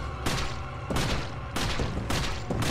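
Loud gunfire from the video game Resident Evil 4, several bursts with booming shots in quick succession across a few seconds, each lasting under a second, with no talking.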